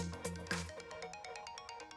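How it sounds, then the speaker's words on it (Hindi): A mobile phone ringtone plays a repeating electronic melody for an incoming call in a dubbed action film scene, fairly faint with rhythmic pulses and no talk over it. "देखा ना, वो फोन कर रहा है"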